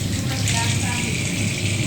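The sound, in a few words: washing plastic cards in soapy water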